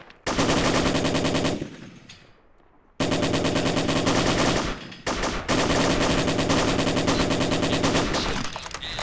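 Automatic machine gun fire rattles in long, loud, rapid bursts during a firefight in the video game ARMA 2, with a brief lull between bursts and no talking.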